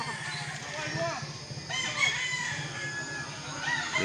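A rooster crows nearby over steady background noise, a drawn-out call heard in a poultry setting while people talk softly in the background.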